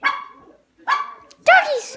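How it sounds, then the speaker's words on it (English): A dog at a friend's house gives three loud, close barks spaced under a second apart, the last one longer and rougher. "Doggies!"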